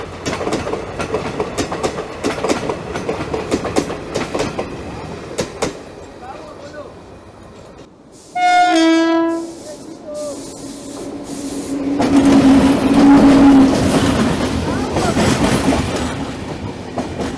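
The Kanchankanya Express passenger train rolls along with steady rattling and clattering of coaches, a loud two-tone horn blast in the middle, then a louder rumbling run near the end; a voice speaks over parts of it.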